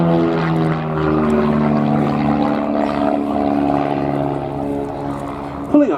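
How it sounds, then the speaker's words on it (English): Propeller aerobatic plane performing at an air display, a strong droning engine with a steady harmonic hum that shifts in pitch as it manoeuvres, heard under a commentator's voice, with a brief thump at the end. "Pulling up now for a hesitation half Cuban manoeuvre."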